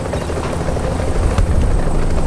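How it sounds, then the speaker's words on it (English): Extraction helicopter in The Division video game, a loud, steady rotor drone with a thudding low rumble that holds throughout, a brief sharp burst partway in. "I'm up on the helicopter"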